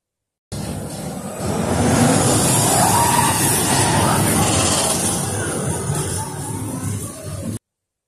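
The Taron roller coaster tears past with a loud, sustained roar of wheels and rushing air that swells and then fades away.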